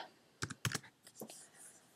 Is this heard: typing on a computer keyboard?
yes